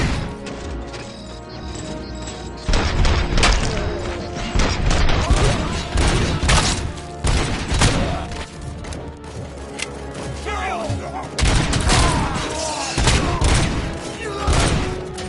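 Heavy, sustained gunfire and crashing impacts in the Rogue City video game, dense bursts of shots and thuds rolling through the whole stretch with shouting voices mixed in.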